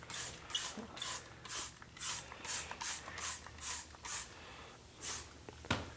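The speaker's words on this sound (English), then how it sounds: "So here again, we'll spray our ReTyre." A CarPro ReTyre tire cleaner is sprayed onto a car tire in a quick series of about ten short, even hissing bursts, close and fairly loud, followed by one final spray after a brief pause.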